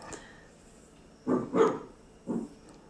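A dog barking indoors at home, three quick muffled barks spaced over about a second and a half, coming from slightly off in another room against a quiet background.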